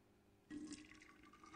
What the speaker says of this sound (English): Next, enough hot water to dissolve the sugar and coffee is added.